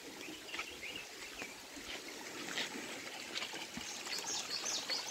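Rainy-season waterfalls pour and trickle down the walls of Ranthambore Fort, a steady rushing wash of water with faint birds chirping in the background.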